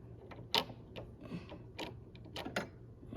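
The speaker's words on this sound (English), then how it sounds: "go ahead and place the bobbin in here so we can start sewing" Bobbin being placed into a sewing machine, heard as quiet, close plastic clicks and taps scattered across a few seconds, with several sharper snaps and no talking.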